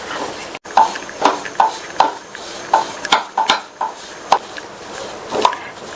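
Roasted gram flour stirred continuously in a pan with a spoon, giving a brisk series of scraping strokes at an even rhythm. A soft fry sound runs underneath, close and clear, with no voices.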